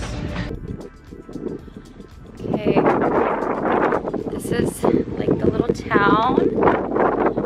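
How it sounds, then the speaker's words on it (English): Outdoor wind gusting across a microphone at a hilltop spot in Greece, a steady broadband rush with buffeting low rumble throughout, while people talk over it. "the wind feels so good up here"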